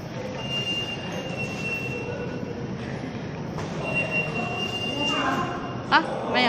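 Interior of a Chinese high-speed bullet train (EMU) while riding, a steady rumbling cabin drone with a thin high whine and occasional squeaks, a brief clatter near the end, with faint voices in the background.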